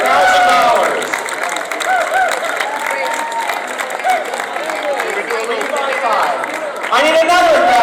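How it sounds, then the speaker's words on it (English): Audience clapping at a Humane Society charity gala auction, steady applause that fills the room while an auctioneer keeps talking over it. "Give these ladies some applause."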